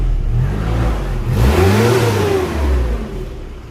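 A Nissan Patrol SD33 diesel engine runs just after a cold start following about two years of sitting, close and loud, its idle rising and falling through two swells of revving.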